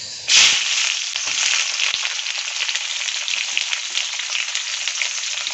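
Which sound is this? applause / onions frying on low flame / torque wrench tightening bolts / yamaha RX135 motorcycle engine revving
onions frying on low flame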